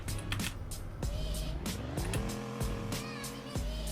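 A car engine in a Roblox Greenville game revs up and down in repeated surging bursts, close and steady, with rising and falling tones and no talk over it.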